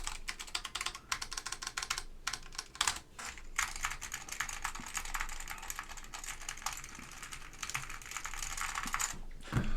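Mechanical keyboard with orange Alps switches and white-on-black DCS keycaps being typed on, a dense, continuous clatter of close key presses with occasional louder strikes.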